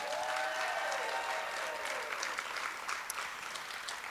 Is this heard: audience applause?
yes